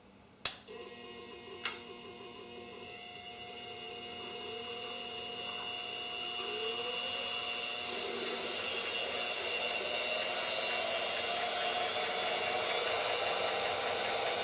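A benchtop minimill with an upgraded belt drive starts up after a sharp switch click, its motor settling into a steady whine and hum that grows slightly louder and fuller over time, close by and without talk.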